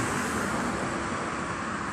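Fast traffic rushes along a city street in a steady broadband roar of passing cars and heavier vehicles, fairly close and continuous, with no talking.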